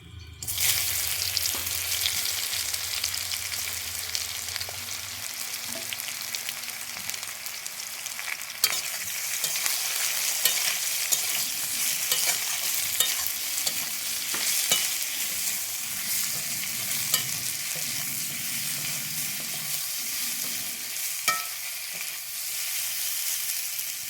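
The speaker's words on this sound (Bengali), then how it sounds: "আমি এইভাবে উচ্ছেটাকে ভেজে নেব" Bitter gourd frying with asafoetida in a pan, a dense, steady sizzle heard close and alone for a long stretch, with occasional clicks and stirring scrapes.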